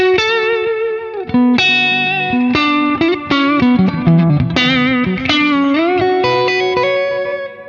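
Electric guitar lead played through an amplifier on its warm, thick lead channel with moderate gain, a melodic sustained line of bending and gliding notes, loud and close with a touch of reverb, no talking.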